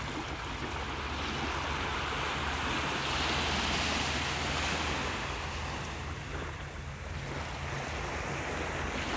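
Ocean waves wash steadily onto a beach in North Naples, Florida, a continuous broadband surf roar with some wind, close and loud throughout with no talking.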